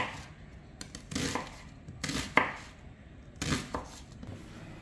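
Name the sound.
knife chopping onion coarsely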